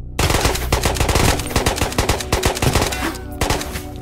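Rapid bursts of automatic gunfire in the VR shooter Ghosts of Tabor, close and loud, with sharp repeated shots in quick volleys and brief gaps between them.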